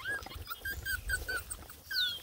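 Beagle puppies whimpering close by: a string of thin, high whines and squeaks, about eight short cries in quick, uneven succession, the last one rising sharply, over a faint low rumble.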